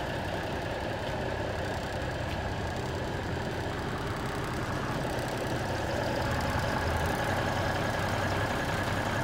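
A 1967 Crown tandem axle truck with a Cummins engine idling, a steady low rumbling drone with a constant rattle, close and moderately loud without any talk.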